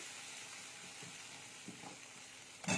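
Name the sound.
turmeric sizzling in hot oil while stirring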